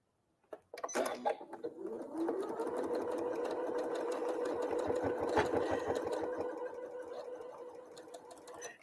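A sewing machine chain-pieces quilt block pieces, starting after a couple of clicks and then running in a steady, close, continuous whir for several seconds before stopping.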